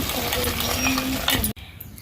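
Rohu fish is mixed by hand with ginger-garlic paste, chilli, cumin, coriander and chopped onion, giving a soft wet squishing and stirring with small clinks, then a sudden drop to quiet.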